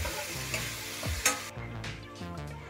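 Shredded chicken being stirred into onions in a frying pan for chicken chukka, steady sizzling with scraping spatula strokes, close and continuous without talk.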